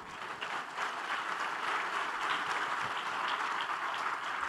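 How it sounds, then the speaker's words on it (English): A church congregation applauds in greeting during a Sunday service, a steady wash of many hands clapping at moderate volume, heard from some distance and continuing throughout. "we want to give you a warm greeting through an applause"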